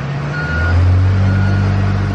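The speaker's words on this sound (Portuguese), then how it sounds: "Foi embora de ônibus" Bus engine rumbling loudly up close with a steady low drone, a high reversing beep repeating at the start, then the engine swelling as the bus pulls away.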